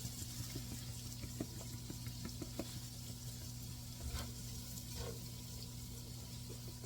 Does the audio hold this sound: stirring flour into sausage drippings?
yes